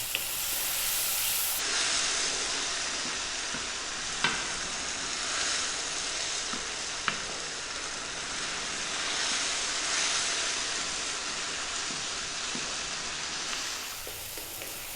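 Tomatoes and spices frying in a pan for an Indian dal fry, a steady broadband sizzle and steam hiss with occasional soft stirring clicks, continuous and close, with no talking.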